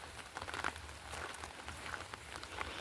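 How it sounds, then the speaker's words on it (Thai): Light rain patters steadily on a surface at a garden guesthouse by Wat Bang Phlap, Samut Songkhram, soft and fairly distant, with no voices. "อันนี้ฝนตกค่ะ"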